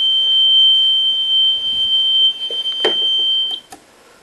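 A fire alarm control panel holds a steady high-pitched electronic tone for several seconds, with a couple of sharp beeps near the end before the sound cuts off.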